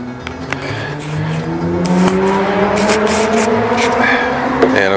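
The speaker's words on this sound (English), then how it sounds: "sport bikes running up the mountain" Sport motorcycles ride up a mountain road in Georgia, their engines revving and rising in pitch as they pass, moderately loud and continuous with brief sharper bursts.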